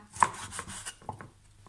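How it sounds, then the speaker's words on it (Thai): A knife cuts repeatedly through pork on a cutting board, a quick series of soft chopping strokes with no talking. "หั่นหมูเป็นชิ้นแบบนี้นะคะ"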